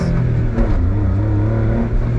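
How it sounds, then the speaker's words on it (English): Rear-mounted exhaust of a Honda kei car, a steady low rumble with slight revving, loud and close, running continuously without pause. "That exhaust note, the fact that it's coming from behind"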